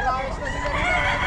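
A rooster crows at a busy Bocaue pet market, its call blending into dense market noise and background chatter, loud and close throughout a short burst.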